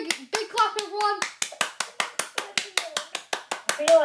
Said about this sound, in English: Everyone give him a big clap, everyone.